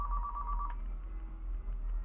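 A phone ringtone chirps in a fast repeating trill for under a second as a spam risk call comes in, then cuts off, leaving a low background hum.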